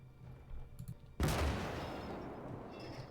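German tank in Gates of Hell lets off a sudden heavy blast about a second in, its roar and rumble decaying slowly over the following seconds, with low engine-like thumps and a faint crackle before it.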